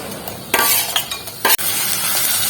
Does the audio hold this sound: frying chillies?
yes